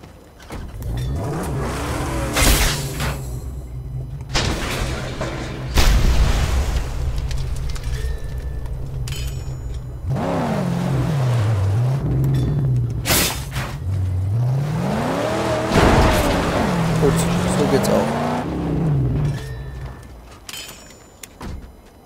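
A car is driven in the Mad Max video game, its engine droning steadily and rising and falling as it revs and accelerates, with a few loud bangs and thumps along the way and no talking.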